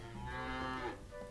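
A cow moos in the mobile game World of Cheese: one steady, tonal, mid-pitched call lasting about a second, clear and alone with no talk.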